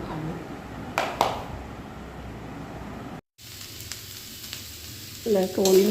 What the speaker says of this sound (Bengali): আলু ভাজা হয়ে গেল